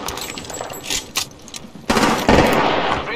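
Rapid bursts of gunfire from the battle royale game Apex Legends, dense and loud, with a heavier volley kicking in near the end and continuing to the close.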